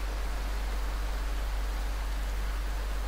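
A rain ambience track from the Peace relaxation app plays as an even, unbroken hiss of rainfall with a steady low hum beneath it and no voices.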